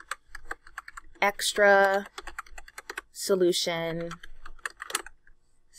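Rapid clicking of a computer keyboard, with light, irregular keystrokes running under and between a person's speech.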